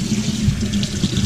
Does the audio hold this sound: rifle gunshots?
no